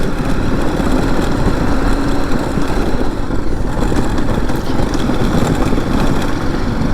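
A motorcycle engine runs steadily and loudly nearby on a rough off-road track, a continuous low rumbling chug without pauses.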